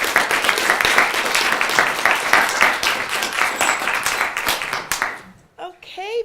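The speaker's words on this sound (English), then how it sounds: "Let's have a warm round of applause." Warm audience applause after a presentation introduction, dense and sustained clapping for about five seconds before it cuts off and a voice starts speaking.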